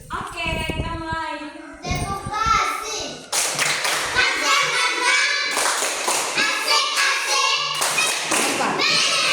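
Children clapping hands in a rhythmic classroom clapping game, quick patterned claps and slaps with young voices chanting along, busy and close, the clapping growing denser and louder partway through.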